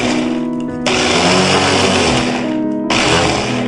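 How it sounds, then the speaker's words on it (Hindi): A hand blender grinds potato chutney with a cup of water, a loud continuous whirring drone that cuts out briefly and starts again near the end, close up. "अब 1 कप पानी डाल के इस चटनी को पीस लेंगे हैंड ब्लेंडर का यूज करते हुए।"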